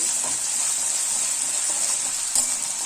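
Gram dal frying in a pan and stirred until brown, a steady bright sizzle running through the whole stretch with a few soft spoon scrapes.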